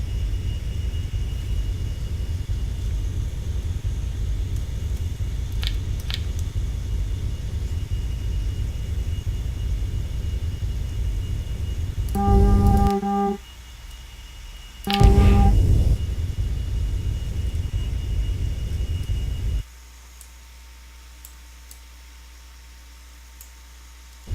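Spacecraft engine thrust in the Orbiter 2010 video game during a throttle increase near Mars: a steady rumbling roar with a few brief clicks and tones that drops abruptly to a much quieter hum after about twenty seconds.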